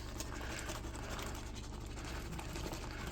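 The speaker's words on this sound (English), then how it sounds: "vigorous action with a whisk." Hand whisk beaten vigorously through chicken cobbler batter, a fast continuous clatter and patter of wire against the bowl, fairly quiet and steady with no talking.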